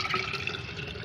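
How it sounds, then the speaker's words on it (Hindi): Plain water is poured into a plant fertilizer mixture, producing a soft, continuous splashing trickle up close with faint dripping, brief and moderately quiet. "उसका 4 भाग सादा पानी मिला लेना है।"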